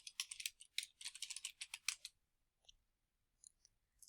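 Someone types a year on a computer keyboard. A rapid, close run of crisp key clicks lasts about two seconds, followed by a few isolated taps. There is no talk.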